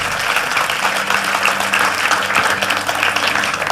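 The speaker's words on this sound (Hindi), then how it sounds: "आज तक के लिए भी तालियां" An audience at a Ram katha discourse bursts into loud, dense, sustained clapping that fills the whole stretch, close and even, with a faint crowd murmur underneath.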